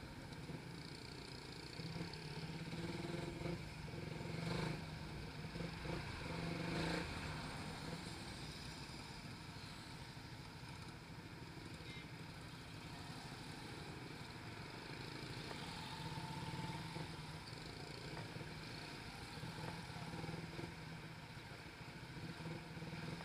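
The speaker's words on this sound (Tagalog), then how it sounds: "ang daming motor" Motorcycle engines drone and rumble in ongoing traffic in General Santos, Philippines, a constant blend of idling and passing vehicles at moderate distance.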